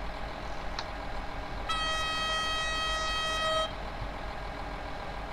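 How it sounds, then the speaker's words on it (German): A train in Train Simulator 2020 on the Allgäu line from Oberstdorf to Immenstadt sounds one sustained, clear horn blast of about two seconds over a low rumble of the running train. "So, nochmal hupen und dort vorne auch gleich wieder."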